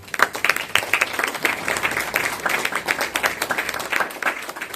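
A seated audience at the inauguration of a Peruvian congress on international law gives sustained applause, dense overlapping claps filling the room at a strong, steady level for several seconds.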